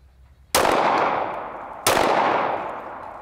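Two loud handgun shots fired at a range during grip training, spaced about a second and a half apart, each with a sharp crack and a long ringing decay, no voices.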